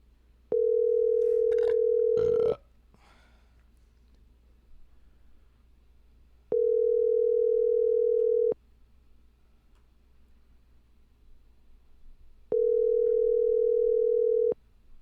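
A telephone ringback tone heard while a call is being placed: three steady two-second tones separated by pauses over a low hum, with a brief burst of background noise near the first tone.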